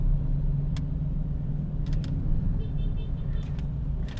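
A car interior in slow Friday night traffic near Margo City, with a steady low engine and road rumble throughout and a few faint clicks and distant horn-like tones, no voices.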